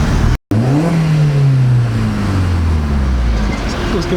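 A Skoda Octavia Mk1 vRS with a Vibrant Performance exhaust revs loud and close, its deep exhaust note sweeping down as the revs fall, with a brief cut near the start and a steady rumble after.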